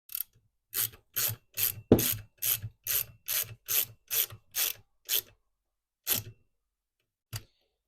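Screws are driven into the plastic housing of an Echo string trimmer: a run of about a dozen crisp ratcheting clicks in an even rhythm, then two slower, isolated clicks, close and clear against silence.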